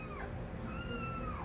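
Cats meowing indoors in a cartoon-style skit, a few drawn-out rising and falling cries over a steady loud background hiss, no talk.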